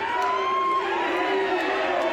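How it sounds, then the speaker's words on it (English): Pennant Hills crowd at an AFL qualifying final against Manly Warringah, a steady wash of cheering and crowd noise at moderate distance, continuous for a couple of seconds with no clear break. "the Pennant Hills crowd, well, they just voice their opinion"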